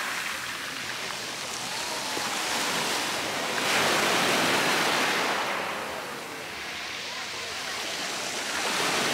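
Waves washing onto a beach near Dubrovnik, Croatia: a broad, steady rush of surf that swells and eases, with a voice faintly present beneath the water noise.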